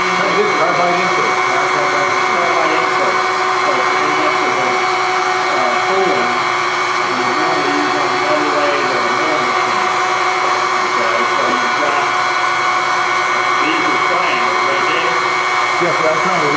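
A rose engine lathe runs at high speed, cutting with a carbide insert. It gives a loud, steady, continuous whine and rush with no breaks from start to finish.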